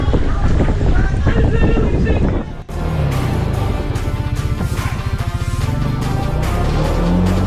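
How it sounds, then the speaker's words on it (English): Warm wind rushes past on a sailboat off the coast of Cuba, a loud, constant buffeting roar across the microphone with water and boat noise beneath and a voice speaking. "32 degrees, nice warm wind."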